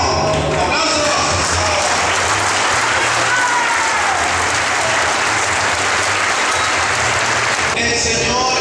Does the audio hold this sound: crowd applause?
yes